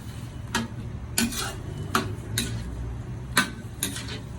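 Sweet potato and vegetables simmering in a pot are stirred with a utensil, giving about six sharp metallic clinks against the pot over a low bubbling background, with no talking.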